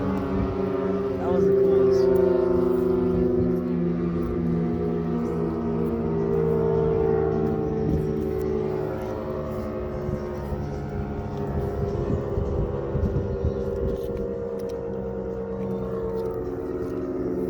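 A Super Sirex outdoor warning siren in Hamilton, Ohio sounds during a test, a loud sustained wailing tone with steady harmonics rising and falling slowly across the whole stretch, heard outdoors with some background noise.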